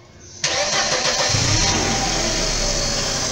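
A petrol car's engine cranks and catches after a gasoline fuel filter change, roaring up abruptly from near quiet and then settling into a loud, steady idle close by.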